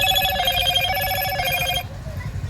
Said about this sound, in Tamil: இந்த ரிங்டோனை கேட்டாலே ஆசையாக இருக்கும்.